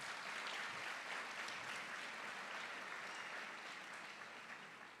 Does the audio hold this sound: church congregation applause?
yes